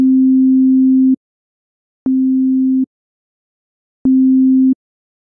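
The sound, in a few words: two sine waveforms played together, phase cancellation demo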